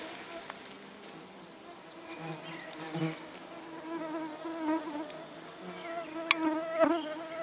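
Bees buzzing steadily around a ravine where honey barrels are being prepared, a dense insect drone with individual bees passing close by, louder near the end.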